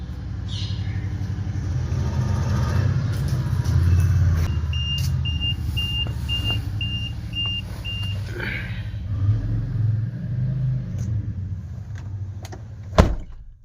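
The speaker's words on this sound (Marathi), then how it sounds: "आणि ही गाडी आहे बुलेरो." A Mahindra Bolero idles and drives with a steady low engine rumble close by, while a short series of regular electronic beeps sounds midway and a sharp knock or door thud lands near the end.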